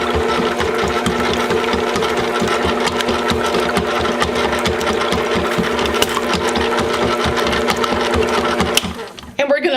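Stand mixer whirring steadily as yeast is stirred into a butter roll mixture, a close, even motor drone with a rhythmic beater rattle that continues for most of the clip before cutting out near the end.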